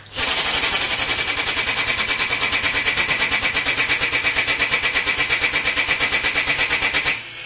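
A Grizzly air-over-hydraulic shop press pump runs steadily, a loud, fast, evenly pulsing mechanical chatter that starts abruptly and holds for about seven seconds before cutting off.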